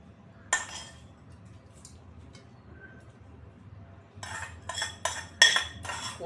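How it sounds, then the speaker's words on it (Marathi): A spoon clinks against a dish while hot tempering is poured over dhokla in a kitchen, with a single clink near the start and a quick run of bright metallic taps and clatter toward the end. "चला आता छान फोडणी टाकून घेऊया आपण सगळ्या बाजूनी."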